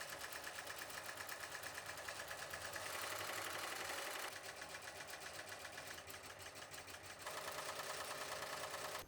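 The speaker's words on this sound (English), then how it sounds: "Return the hoop to the machine and stitch out the satin stitch around the border as well as the satin eyelets at the top and bottom of the design." A computerised embroidery machine stitches a satin stitch border around an in-the-hoop banner design, giving a steady rapid needle rattle with a mechanical hum that shifts in pitch and density as the stitching moves along the border.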